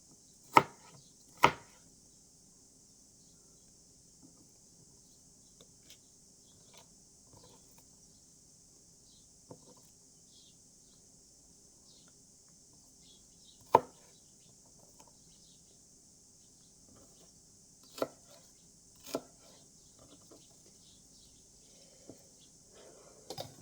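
A knife chops cucumber on a cutting board in a home kitchen, a few sharp, scattered knocks spaced seconds apart over a quiet background with a faint steady hiss.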